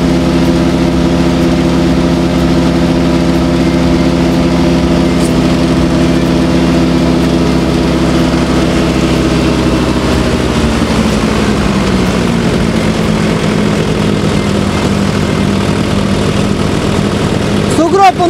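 Diesel tracked snow blower, the Caiman Edo 48YD, clearing a huge snowdrift with its engine running loud and close, a constant drone whose pitch drops partway through, heard alone without talking.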